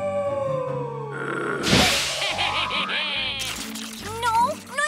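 A cartoon yeti howls in long wavering, swooping cries with some yelping inflections, loud and close, over background music with no plain speech.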